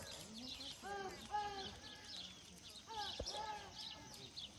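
A small bird gives short chirps in two brief bursts during a cattle round-up on a ranch. A quiet outdoor background and faint voices surround the calls.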